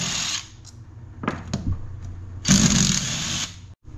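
A power tool whirs in short bursts while taking screws out of a Can-Am Defender differential on a workbench, with clicks and handling knocks between the runs.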